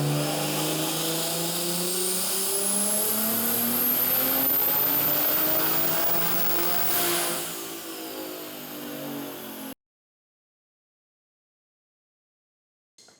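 A single-turbo BMW G80 M3 engine revs on a dyno, a loud steady roar climbing in pitch for several seconds before cutting off abruptly into silence.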